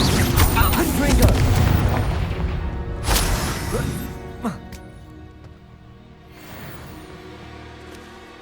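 Confringo spell explosions in the Hogwarts Legacy video game on PS5, a series of heavy booms and crashes, several in quick succession, then smaller blasts fading into echoing rumble.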